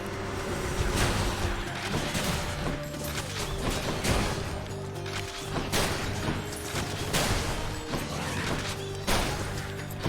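Rapid gunfire from the Hestia Rail in the game Hades, dense repeated shots and mechanical clacks with impact crashes layered over game music, continuous and loud with no talking.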